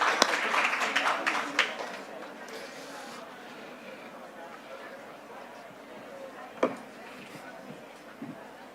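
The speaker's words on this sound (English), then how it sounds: "Big applause" An audience at a startup pitch event applauds, the clapping busy and fairly close at first, then thinning into scattered claps and murmuring with a few isolated thuds later on.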